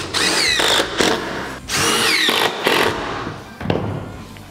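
A power drill drives a 70mm screw into a pre-drilled timber block, with several loud bursts of whirring motor separated by brief pauses.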